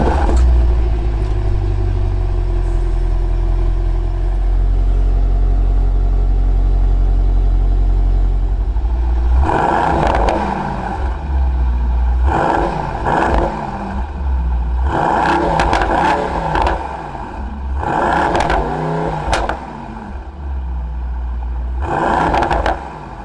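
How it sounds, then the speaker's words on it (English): A 2019 Mercedes-AMG GT63 with quad chrome-tipped exhausts idles low, then barks through several sharp throttle blips, each a loud rising roar that falls back to idle, recorded close with no talking. "We'll listen to the exhaust"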